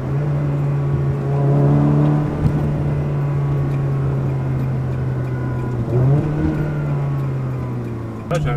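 A Ferrari 360 with an F1 gearbox drives under acceleration, its engine holding a strong steady drone and shifting pitch around gear changes, with a voice heard over it.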